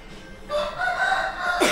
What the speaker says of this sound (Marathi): कॅमेरा चालू केला की लगेच कुकडू चालू करतात.